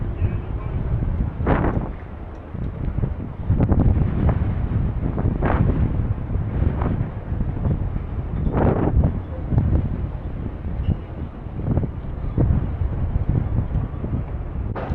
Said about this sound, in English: Nice windy day.